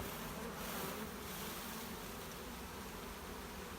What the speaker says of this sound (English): Try to put some of these bees and just try to shake them into the box.